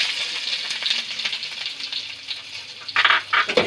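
Onions fry in hot mustard oil with a steady, close sizzle, crackling and spitting throughout, and grow briefly louder near the end as they are stirred.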